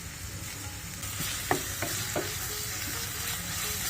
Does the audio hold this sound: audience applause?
no